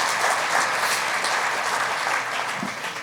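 Audience applause with some cheering at an economic development group's annual meeting, a steady dense clatter of clapping that fills the whole stretch and fades slightly toward the end.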